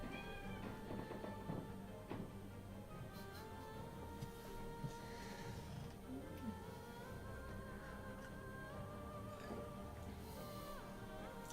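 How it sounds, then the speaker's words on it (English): A pet cat meows at a desk beside a computer during a live stream, the cries faint and scattered over steady background sound and other tones. "Yeah, my cat."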